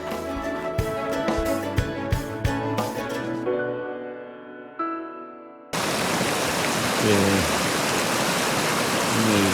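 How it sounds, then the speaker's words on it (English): A mountain creek on the John Muir Trail rushes loud and close as a steady broadband roar, taking over abruptly after an earlier tonal, rhythmic passage. "Across this creek here."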